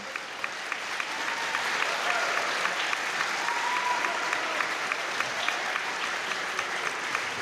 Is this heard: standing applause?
yes